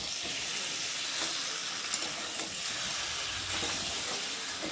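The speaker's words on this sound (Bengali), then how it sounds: "আর এখন এই যে ভেজে রাখা আলুগুলোকে দিয়ে একটু ভালোভাবে কষিয়ে নেব" Potatoes and chicken sizzle in a pan while being cooked down for chicken kosha, making a soft, even frying hiss with faint stirring and no talking.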